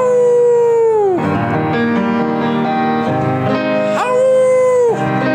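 Desert rescue dogs howl along to piano music, a sustained wavering howl that dips and rises again over the five seconds, fairly loud and close, with no talk.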